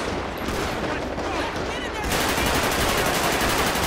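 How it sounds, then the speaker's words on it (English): Sustained automatic gunfire in GTA 5 with a police mod during a gang unit shootout, a dense rattling barrage that grows louder and more continuous about halfway through, with faint voices underneath. "Who are we shooting at?"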